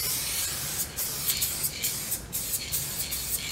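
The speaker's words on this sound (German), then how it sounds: "kann schön den kompletten Unterboden damit einsprühen" Underbody protection coating is sprayed onto the underside of a VW Caddy in short repeated aerosol hisses, close and steady, with brief pauses between bursts and no talking.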